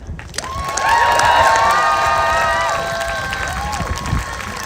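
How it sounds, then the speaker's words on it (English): A large outdoor crowd at a trans unity rally at the U.S. Capitol cheers and applauds loudly and steadily, with whoops and shouts rising over sustained clapping. "Final round of applause."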